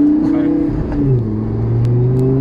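Lamborghini Gallardo LP560-4 with its V10 engine cruising along at steady revs, a loud, smooth, continuous droning hum heard from inside the car while people talk.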